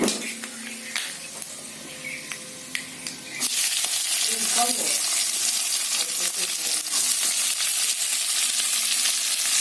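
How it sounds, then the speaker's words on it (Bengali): Chopped onions drop into hot oil in a pan for mutton curry, and the quiet scraping gives way to a sudden loud, steady sizzle that keeps up with stirring. "পেঁয়াজটা ভাজা হতে হতে আমি এদিকে আদা রসুনের পেস্টটা তৈরি করে নেব।"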